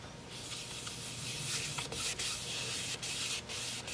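Sandpaper of 80 grit rubs against a spinning 200-year-old red maple piece on a woodturning lathe, a dense, steady, close hiss with a few brief breaks near the end.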